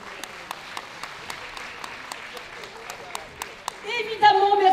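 An audience at a Téléthon charity event in Villemomble claps in a steady, evenly spaced rhythm. The claps are moderately loud, and voices and busier noise rise at the very end.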